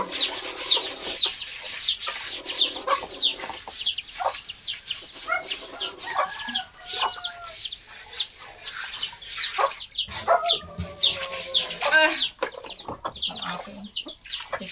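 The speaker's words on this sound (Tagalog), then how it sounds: "yan ang mga manok namin dito" A flock of chickens clucks and chirps continuously at close range, with occasional longer calls and brief bursts of wing flapping.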